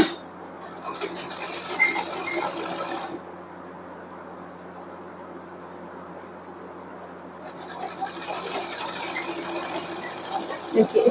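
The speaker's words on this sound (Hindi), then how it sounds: "इस तरीके से हमने इस पर सिलाई लगा दी है" A sewing machine stitching a pocket onto a ladies' pant, its rapid mechanical clatter running in two bursts at the start and end with a quieter pause between, close by and fairly loud.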